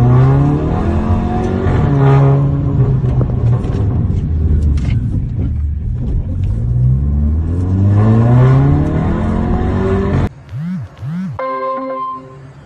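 A truck drives over speed bumps on a road, its loud engine revving up and down repeatedly in rising and falling sweeps, with a brief different tonal sound near the end.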